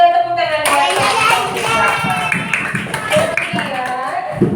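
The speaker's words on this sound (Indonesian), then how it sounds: "Tepuk tangan buat kelompok 3" A classroom of students claps for a group of classmates, a quick, close burst of hand claps mixed with children's voices calling out together.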